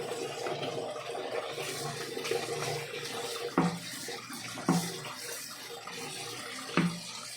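Fish being rinsed under a running kitchen tap, a steady wash of flowing water with a few louder splashes and clatters as the fish are handled.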